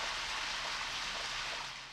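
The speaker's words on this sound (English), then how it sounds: "And it's raining." Steady rain falls in the video game Deadly Premonition, a soft continuous hiss with no voices and no breaks.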